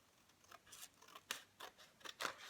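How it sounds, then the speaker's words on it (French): Scissors snip through paper during a scrapbooking bookmark-card craft, several close, crisp cuts in an uneven rhythm, each a short bright slice, with no voice over them. "on va prendre nos ciseaux et on va couper"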